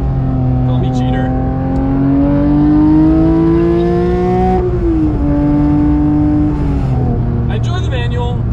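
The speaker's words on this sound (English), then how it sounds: "Now we are in track mode, so it is auto blipping for us." Porsche 992 GT3 engine in track mode, revving with automatic throttle blips: a loud, close, rising engine drone that dips sharply at a downshift blip, then settles and climbs again.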